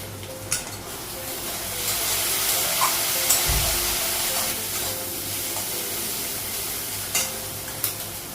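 Okra frying in a pan on a gas stove, giving a steady sizzling hiss with a few sharp clinks and taps scattered through it.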